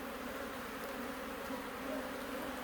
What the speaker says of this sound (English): the bees are really agitated